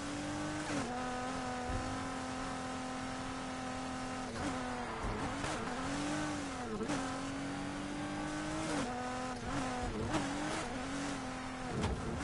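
A steady, loud car engine drone in the video game Need For Speed Heat, with rising and falling revs, shifting pitch several times like gear changes, continuous throughout.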